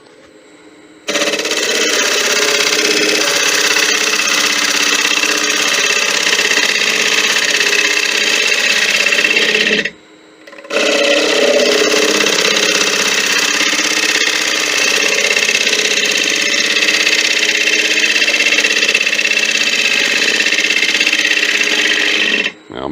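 A wood lathe turns a bowl while a gouge cuts above center height, riding the bevel. The result is a loud, continuous rough scraping and whirring that stops briefly midway and then resumes, close up.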